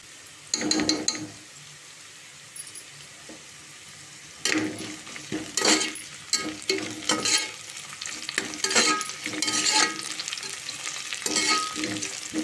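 Vegetables deep frying in ghee for veg biryani, a steady sizzle broken by bursts of stirring and scraping in the pan, moderately close with no voices.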